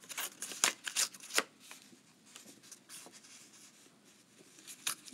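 Paper from a music sheet is torn by hand in a few quick, close rips, followed by softer rustling and crinkling, fairly quiet with no speech.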